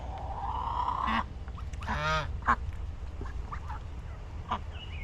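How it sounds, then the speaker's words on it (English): A white Chinese goose honks loudly up close, a sustained harsh call followed by several short sharp honks, with other poultry faintly audible in a barn setting. "a white Chinese goose."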